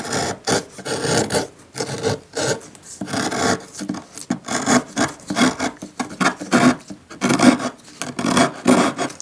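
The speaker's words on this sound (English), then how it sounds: "You gotta love wood carving." A hand carving tool cuts into wood in rhythmic, repeated rasping strokes, close and steady, each pass scraping and shaving across the grain with short pauses between.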